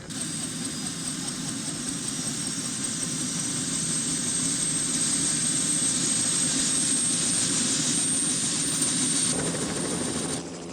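A crop-spraying helicopter flies steadily nearby in Mexico, its engine and rotors making a continuous loud roar throughout, with no break in the sound.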